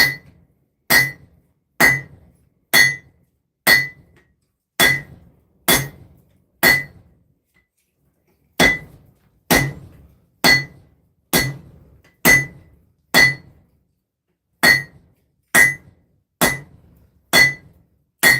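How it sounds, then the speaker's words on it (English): An 8-pound sledgehammer pounds metal during forging, with about twenty sharp, loud, ringing strikes in a steady rhythm and a brief pause midway. "8-pound sledgehammer. Let's give this a couple of swings."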